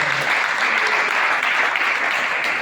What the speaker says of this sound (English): A round of applause for our children.